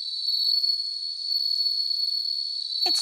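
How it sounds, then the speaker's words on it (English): Bell crickets trill in a steady, high, continuous ring, with a short low knock right at the end. "Look, Maruko, do something about those bell crickets."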